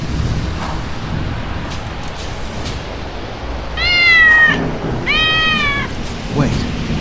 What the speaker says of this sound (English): A tiny cat is trapped in the fishing net.